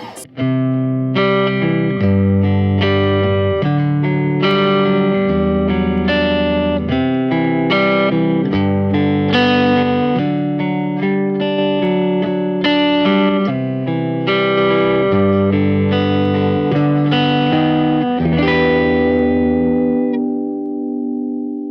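An electric guitar through a compressor effect on a Fender Mustang GT 100 amplifier plays a steady run of sustained notes and chords, evenly leveled, with no talking.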